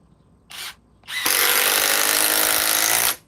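A power tool, likely a drill or impact driver rated around 1,800 inch-pounds, gives a short burst, pauses, then drives a fastener in with a loud steady whir for about two seconds before stopping.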